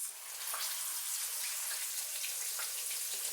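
Floured steak fries in a hot pan for a Sicilian steak, a steady bright sizzle with crackling pops running continuously at close range, no voices.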